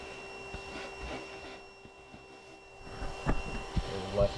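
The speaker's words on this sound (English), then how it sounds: "I can vacuum these clumps of bees without worrying" A vacuum hums steadily while sucking up clumps of honey bees from a colony in a laundry room ceiling, with a few louder bumps and rattles near the end; a voice talks faintly underneath.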